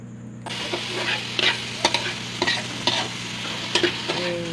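Arroz Valenciana ingredients stirred in a sizzling pan, a steady frying hiss broken by regular spoon scrapes and clinks against the metal, close and fairly clear.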